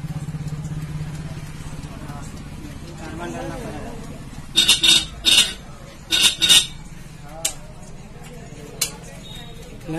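A Hero Splendor Pro motorcycle's self-start is tried in a village repair shop: after a low engine hum, several short, sharp starter bursts come in quick groups without the engine catching, with voices around.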